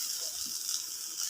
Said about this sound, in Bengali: ঢেঁড়স ভাজছি